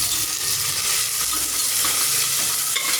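Food frying with turmeric is stirred in a pan, giving a loud, dense, close-up sizzle with soft scraping from the spoon running steadily throughout.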